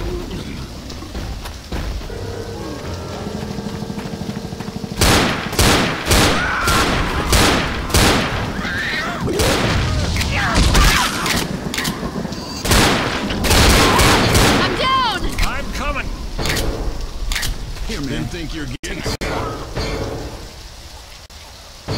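Rapid bursts of pistol fire in Left 4 Dead, dense cracking shots in fast clusters over constant rain-like game ambience, with chatter from players between volleys.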